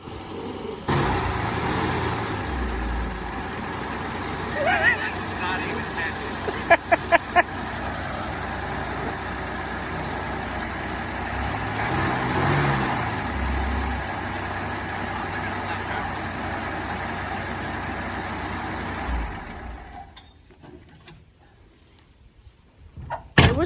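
A Dodge Dart left sitting since 1992 runs with a steady, rough idle close by for about twenty seconds before shutting off, with a few metallic clanks, and people talking over the engine.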